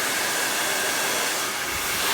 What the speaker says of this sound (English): With the blow dryer, you hold it up and you just glide up the hair shaft.